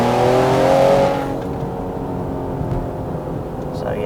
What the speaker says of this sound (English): that's basically full acceleration